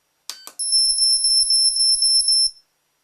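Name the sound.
dog training collar ultrasonic beeps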